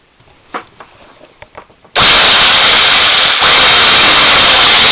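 An electric drill switches on after a couple of seconds of quiet handling clicks, then runs loud and steady at full speed, close by, until the end.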